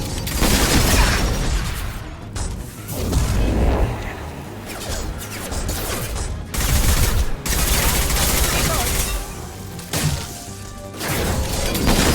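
Weapons firing in the modded Mass Effect game, loud rapid bursts of gunfire and impacts in repeated volleys separated by short gaps, with faint voices mixed in.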